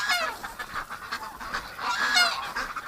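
Ducks call in a winter setting, a scatter of nasal honks and quacks at moderate distance over a soft outdoor background, with no voices.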